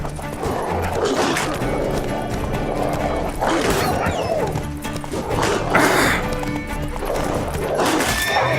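A horse gallops in The Witcher 3: Wild Hunt, with rhythmic hoofbeats, whinnies and some thumping impacts through the whole stretch and no talk over it.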